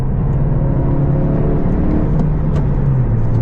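A 2020 Honda Civic Si engine idles loudly and steadily, its low rumble holding with a slight rise in pitch near the end.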